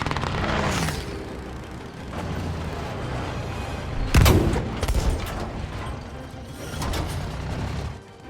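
Gunfire and explosions ring out in Battlefield V as three vehicles are destroyed at the start of a round, with sharp booming blasts and mechanical clatter over a steady battle ambience.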